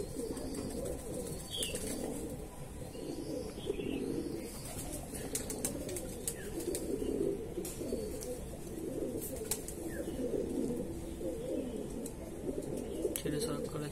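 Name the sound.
Andhra Madrasi pigeons released, cooing and flapping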